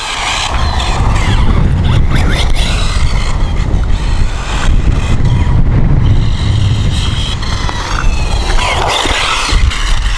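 A ZD Racing 08425 1:8 off-road 4x4 electric RC buggy runs at full throttle outdoors, a continuous loud rushing roar buffeted by heavy wind noise, with no clear speech.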